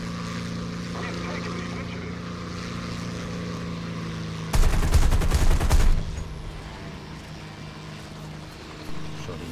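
Machine-gun fire from a P-39K-1 fighter in an arcade air-combat video game, a loud dense burst of about a second and a half cutting over a steady engine drone, with faint talk in the background.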